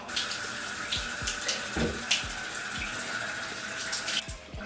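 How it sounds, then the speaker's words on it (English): Tap water runs steadily into a sink while face cleanser is rinsed off, a close continuous splashing with small irregular splatters from hands in the stream and no talking. "I'm gonna rinse this off now."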